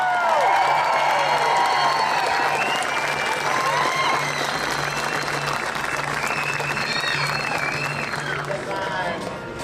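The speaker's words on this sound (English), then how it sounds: "Make some serious noise for Stephen Page." A large crowd at a 2018 opening ceremony applauds and cheers loudly and steadily, with whoops and shouts rising over dense clapping that fills the whole stretch.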